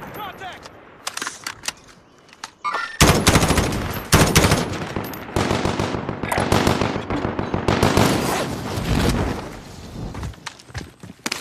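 Gunfire erupts in a video game diner shootout as dense, loud machine-gun bursts and rapid shots. After a few scattered pops it turns into sustained heavy firing with brief pauses, and voices are faintly present.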